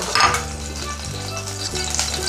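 Bay leaf dropped into a hot mix of oil and ghee, giving a loud burst of sizzling that settles into steady frying crackle, with faint pan noise throughout.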